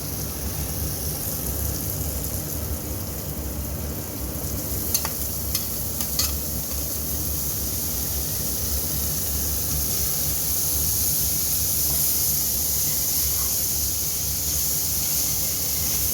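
Grated paneer and masala fry in a pan, a steady close sizzle with intermittent stirring scrapes and a few light taps of the spoon throughout.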